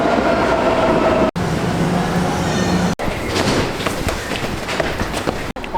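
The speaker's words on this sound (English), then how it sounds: "We've just got off the train" A train in Vienna rumbles loudly and steadily on the rails with rattling and clacking, heard up close in a few abruptly cut segments.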